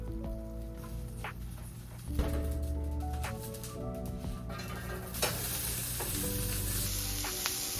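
Onion burger sliders frying on a hot surface, a steady close sizzle that swells and hisses louder partway through, with faint tonal hum beneath.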